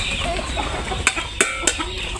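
Chickens clucking nearby in a rural yard at feeding time, with a busy murmur of fowl followed by a few sharp, loud clucks near the end.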